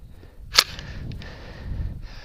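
A single quiet, sharp crack from a .223 rifle firing a subsonic load, brief and fairly soft, followed by faint rustling and low outdoor ambience.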